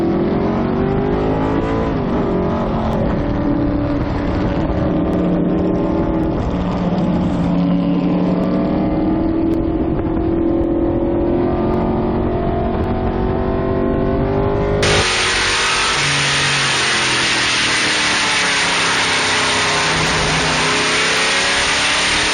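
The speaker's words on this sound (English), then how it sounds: "look at this vinyl top Mercury Cougar of Gary Moore" Vintage Group 6 race cars, including a vinyl-top Mercury Cougar and Chevrolets, race at Circuit of the Americas. Loud engines roar and rise and fall in pitch as cars accelerate and pass close by, sustained throughout with no talk.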